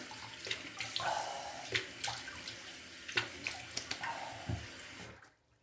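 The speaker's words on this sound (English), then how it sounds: "So I rinse with cold water." Cold water running from a tap into a sink while shaving, a steady close splashing stream broken by a few wetter splashes and knocks, cutting off abruptly near the end.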